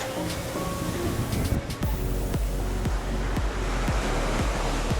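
Ocean surf rolling in at a Jamaican all-inclusive resort, a steady wash of waves with repeated low thumps as they break, with no talk and a constant broadband roar throughout.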